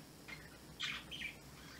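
Small bird giving a few quiet chirps in short bursts, faint and close, with no talking over it.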